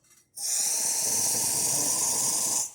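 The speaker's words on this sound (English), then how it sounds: "we're just going to run the group head to show that it is working" A restored vintage La Pavoni lever espresso machine runs its group head with the lever raised, releasing a loud, steady hiss of water and steam that starts abruptly and holds for about two seconds before cutting off.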